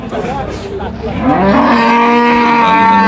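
A Friesian cow at a cattle market gives one long, loud, close moo that swells after a short lead-in of background noise, with no talk over it.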